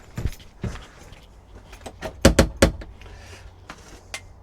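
Car keys for a Ford Focus jangling as they are handed over, several sharp metallic clinks and rattles in short bursts, close and loud against a quiet background.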